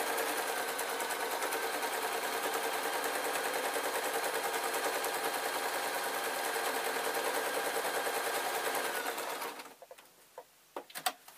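A sewing machine stitching a waistcoat seam, a loud, rapid, continuous mechanical chatter for about nine seconds that then stops, followed by a few quiet handling clicks and knocks.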